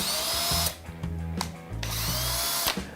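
A Hilti SF6H-A22 cordless drill driver runs at speed setting 1, its lowest range, giving a close, steady motor whine that stops and restarts several times in short bursts.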